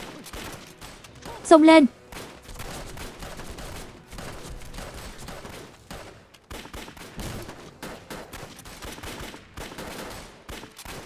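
Gunfire in a Vietnamese anti-Japanese war action drama: rapid, repeated sharp shots crackle throughout as a battle rages, with a sudden shrill cry near the start and shouting voices mixed in.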